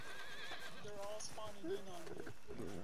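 A horse in a video game whinnies after bucking off its rider, a short neigh with some hoof clatter heard beneath a player talking.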